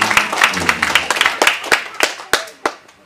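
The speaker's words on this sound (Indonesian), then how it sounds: "Kita tepuk tangan dulu untuk orang tua dari Jeli." Guests at a wedding reception clap for the groom's parents, a close, uneven patter of hand claps that thins into a few scattered sharp claps as it fades.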